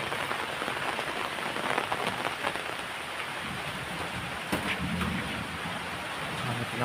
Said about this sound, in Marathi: पावसाळी वातावरण कोकणात लागला मुसळधार पाऊस पडतोय